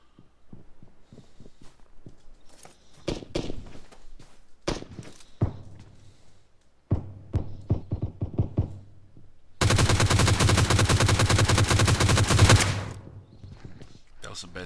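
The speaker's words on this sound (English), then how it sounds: "That was some bad shooting." Rapid video-game gunfire, with scattered single shots and short bursts early on, then a loud sustained automatic volley of about three seconds, near and dominant in the mix.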